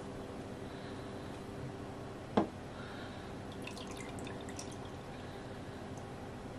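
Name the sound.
dough ring dipped in water, dripping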